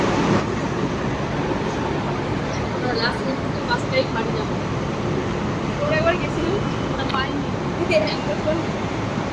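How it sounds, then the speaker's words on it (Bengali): Ambience on the platform of Netaji metro station during the last metro at night: a steady, dense wash of rumble and hum under constant crowd murmur, with faint tonal chimes or squeals now and then. "পুরোটা আমরা নেতাজি মোহন মেট্রো স্টেশনে দাঁড়িয়ে আছি।"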